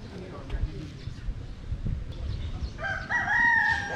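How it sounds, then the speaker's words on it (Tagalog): A rooster crows loudly in a rural setting in Tagaytay, Philippines, the harmonic call rising near the end after background chatter and people speaking in the clip. "Yung may mga tunog ng manok."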